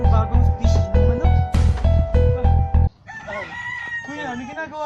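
Several roosters crow loudly in rhythmic, overlapping calls for about three seconds, then the crowing stops and people speak over quiet outdoor background.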